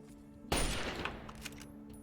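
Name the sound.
enemy gunfire in Fallout 3 video game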